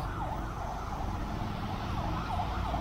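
A wailing ambulance siren sweeps up and down steadily over loud, constant traffic-jam rumble, sounding fairly close and continuous throughout.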